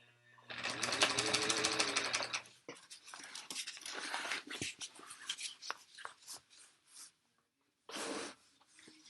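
A sewing machine stitching through the foam layer of a tote bag: a steady close run of stitching at first, then slower, uneven bursts and stops, with one final short burst.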